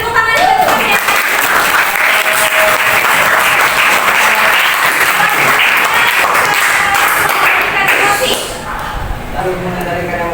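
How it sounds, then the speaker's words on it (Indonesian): Classmates applaud together in a classroom during a school guidance-counselling microteaching lesson, steady loud clapping filling about eight seconds before tapering off, with voices mixed in. "Beri tepuk tangan juga teman ya."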